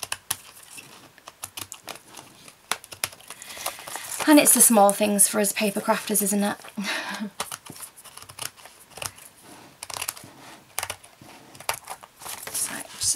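Crisp scissor snips cutting through paper in a quick rhythmic burst, close up, between stretches of someone talking.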